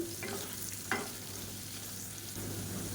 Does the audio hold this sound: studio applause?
no